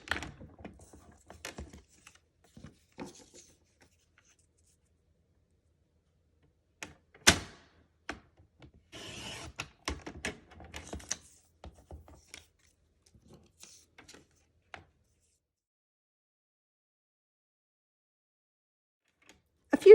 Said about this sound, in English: I'm going to line this up in the gutter of the trimmer, and I just want to cut some triangles